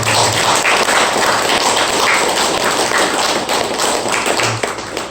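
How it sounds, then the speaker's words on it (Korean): A church congregation at a Sunday ordination service applauds, a dense, loud, continuous wash of clapping from many hands that holds steady for several seconds before easing slightly. "하나님께 영광의 박수를 드리겠습니다."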